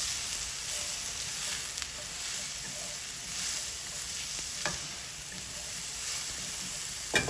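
Chicken and vegetables sizzling in a single pot, a steady frying crackle with occasional sharp stirring clicks and scrapes, fairly close.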